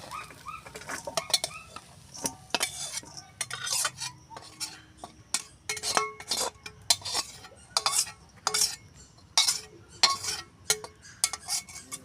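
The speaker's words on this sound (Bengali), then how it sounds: "চাউমিনগুলো ঢেলে নেব।" Egg chow mein is tipped out of a metal pan onto a plate, with repeated sharp clinks and scrapes of utensils against the pan in irregular bursts, close and fairly clear.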